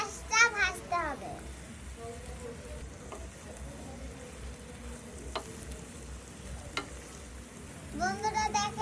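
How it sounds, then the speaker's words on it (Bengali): Onions browning slowly in oil give a soft, steady sizzle at moderate distance, with children's voices chattering at the start and end and a few faint clicks in between. "পেঁয়াজটা বাদামি করে ভেজে নেব।"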